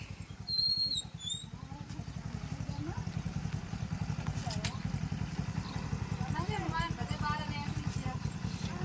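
A motorcycle engine pulses steadily and rhythmically nearby for the whole stretch, close and idling, outdoors in a rainy village, with people talking over it.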